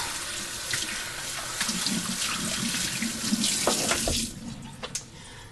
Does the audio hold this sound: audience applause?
no